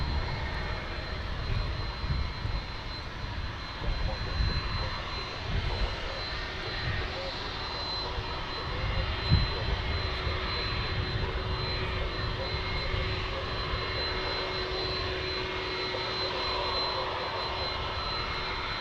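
A jet airliner at DFW airport rolls down the runway to depart, its engines a steady, distant roar that holds throughout with a brief swell midway.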